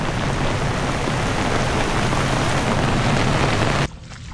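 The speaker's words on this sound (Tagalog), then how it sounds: "Malakas po ang naging ulan kanina. May kasama pang hangin." Heavy rain pours down steadily with wind over a flooded eggplant field beside a fish pond, a dense, loud, continuous hiss that drops off sharply near the end.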